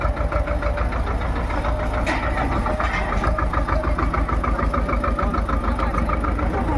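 Goods-carrying tractor engine on the Kedarnath yatra track, a steady rhythmic diesel chug with fast regular knocking pulses, close and continuous with no talk over it.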